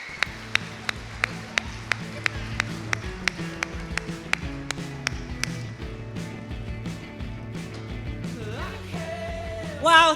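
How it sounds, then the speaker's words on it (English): Audience applause at a community awards ceremony, with loud sharp claps in a steady rhythm over music for about six seconds, then a softer sustained crowd wash that swells briefly at the end. "please join me and give me a round of applause for BMO"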